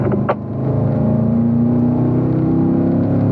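A Corvette at the Spring Mountain racing school powers out of a turn, its engine holding a steady, loud, droning pitch that climbs gradually as the driver feeds in throttle, close and with no talk.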